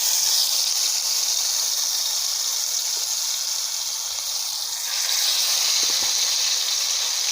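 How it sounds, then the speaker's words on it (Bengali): Pieces of chicken frying in hot oil for a village-style chicken fry, a steady close hiss and bubbling sizzle that runs continuously with slight swells, no voices over it. "এটাকে ভাজা শুরু করি।"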